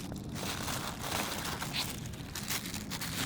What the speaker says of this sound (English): you very simply put the tray inside of the plastic bag